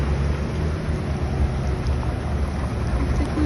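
Heavy downpour in Almaty pours down onto a street during asphalt laying, a dense continuous roar of rain and runoff with low rumbling, steady and loud throughout.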